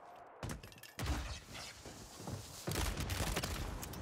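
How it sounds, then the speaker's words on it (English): Distant gunfire in Warzone 3 comes in several sharp bursts of shots, separated by brief pauses, fairly faint overall with a heavier volley near the end. "They're shooting somebody."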